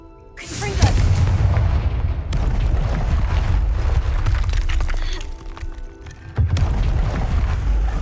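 In the video game Hogwarts Legacy, the Confringo fire spell bursts in a loud booming explosion with a rumbling fiery tail, followed by a second heavy blast near the end.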